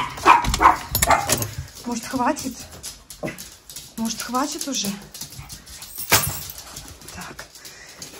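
A pet dog at home in the morning barks and whimpers in short yips and whines, loud and near, while someone talks over it.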